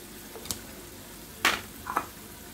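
Kefta frying in oil in a small pan gives off a low, steady sizzle, broken by a few sharp clinks and scrapes of stirring up close.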